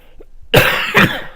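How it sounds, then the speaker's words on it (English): A person with a lingering cough lets out two harsh, close coughs in quick succession after a brief quiet moment. "Really need this cough to go away."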